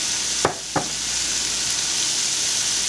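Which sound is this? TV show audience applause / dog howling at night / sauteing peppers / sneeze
sauteing peppers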